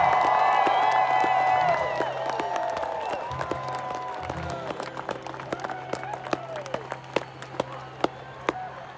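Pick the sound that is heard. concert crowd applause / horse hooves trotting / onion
concert crowd applause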